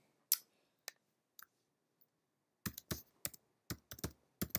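A chart title is typed on a Mac computer keyboard in Excel, heard as sparse, close key clicks at first, then a quicker irregular run of taps. The setting is quiet and no one speaks.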